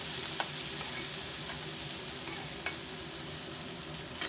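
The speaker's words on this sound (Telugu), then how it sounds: "ఈ ఎండ్రాయిల్ని ఈ విధంగా వేసేసి ఆయిల్లో కొంచెం ఫ్రై చేసుకుందాము" Dried prawns fry in a little hot oil in a pan, giving a steady, close sizzling hiss throughout with occasional soft stirring clicks and pops, no talking.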